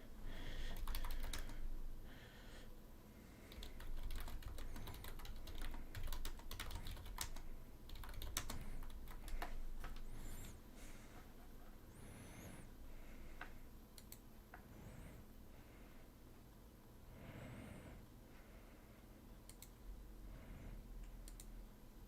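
Typing a message on a computer keyboard, with steady irregular key clicks close and quiet throughout, no talking.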